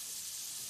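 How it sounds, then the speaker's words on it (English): Ground chicken sizzles in a hot pan, a steady, fairly quiet hiss of frying with no break and no voices over it. "Oh yeah, listen to that sizzle."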